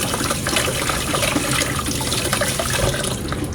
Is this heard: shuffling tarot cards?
no